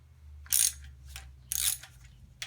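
A ratchet wrench clicks in two short bursts about a second apart, close up, while working a tensioner bolt loose on a Chrysler 3.5 engine.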